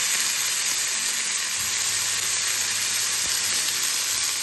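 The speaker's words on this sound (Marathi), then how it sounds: "आता मग त्यामध्ये मी वांग्याचे हे बारीक चिरलेले काप टाकून घेतले।" Finely chopped brinjal slices hit hot oil over soft-cooked tomato and keep up a steady, dense sizzle and hiss, close and even for a few seconds.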